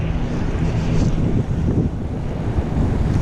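Wind buffets the microphone in a continuous low rumble as a cyclist rides home from Carmel to Indianapolis, with no voice heard.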